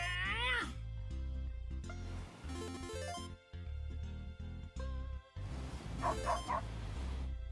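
A dog in a leaf blower video game barking and yipping in loud, close bursts, mixed with cat-like meowing calls over a steady low hum of game sound, with no talk.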